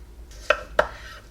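A knife cutting potatoes on a board for mashing: two sharp, close knocks of the blade hitting the board about a third of a second apart, against a quiet kitchen background.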